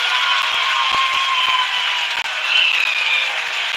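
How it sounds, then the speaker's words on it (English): Applause from a crowd watching the ISRO Chandrayaan 3 lunar landing, a steady dense patter of clapping that carries through the whole stretch, with a faint tone running underneath. "People are applauding."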